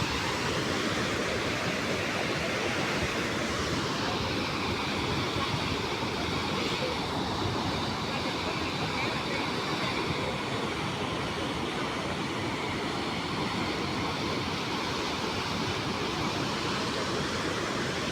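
Floodwater of the Ratdi river near Detad village in Savarkundla taluka surges after heavy rain, a loud, steady broadband roar of rushing water that continues unbroken throughout.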